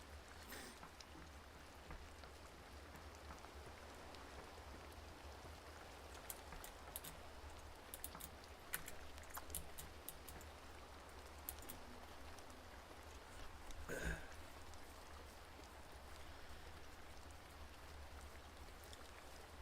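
Steady rain falls in the sailing game Sailwind, an even patter of drops on surfaces with scattered louder taps and one sharp knock midway, and no voices.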